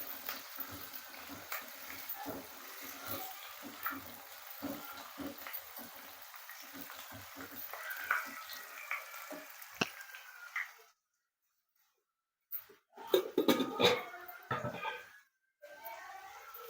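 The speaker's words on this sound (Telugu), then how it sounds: "పచ్చిమిరపకాయలు, ధనియాలు, శనగపప్పు అవి పప్పు దినుసులు వేగాక" Green chillies, coriander seeds and chana dal fry in a pan with a quiet, crackly sizzle and small pops for about ten seconds, followed by near silence and a few louder clattering handling noises.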